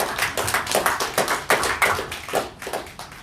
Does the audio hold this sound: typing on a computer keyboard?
no